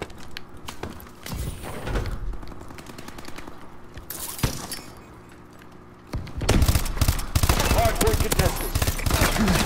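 Rifle fire in Call of Duty Advanced Warfare multiplayer: short bursts of rapid shots crackle out, with a quieter stretch midway and then denser, louder gunfire near the end, over game background noise.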